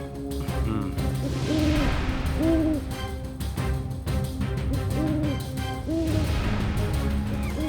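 Owls hoot in repeated rounds of low, rising-and-falling calls over a dense, busy background in a televised drama scene, the hoots recurring every second or so.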